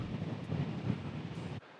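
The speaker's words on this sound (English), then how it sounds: "Bit windy though." Steady broadband rumble of wind buffeting a microphone outdoors at a wild camp on the Isle of Wight, loud and continuous, then cutting off abruptly near the end.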